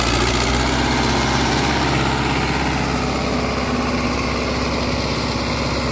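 A loud 1985 HMT 5911 58 HP tractor engine idles steadily, a constant rumbling drone with a rapid chugging pulse throughout.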